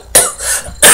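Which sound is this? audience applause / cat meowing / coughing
coughing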